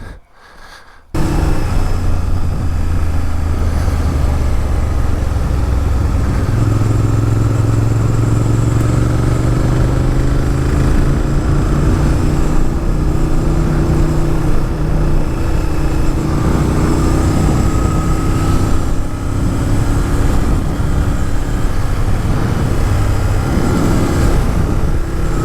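Honda Firestorm (Superhawk) VTR 1000 motorcycle during a test ride, its engine droning steadily and loudly from close by with wind noise and gentle shifts in pitch as it changes speed.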